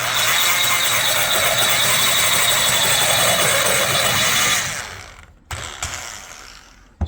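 A valve guide in a Harley SE 120R cylinder head is cut with a power tool, a loud steady grinding whir that runs for several seconds, then dies away, gives a brief final burst and stops.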